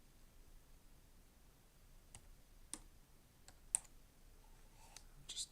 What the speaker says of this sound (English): Just typing one-handed because I got a coffee in my other hand